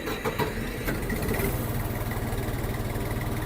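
A Jinma 244 tractor engine cranks with a few sharp bursts, catches and settles into a steady, rhythmic idle chug, close and fairly loud.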